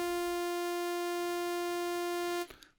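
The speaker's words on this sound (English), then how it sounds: "So here's our sawtooth wave" Plain sawtooth wave from the Vital software synth holding one steady buzzy note with a bright edge for about two and a half seconds, then stopping abruptly.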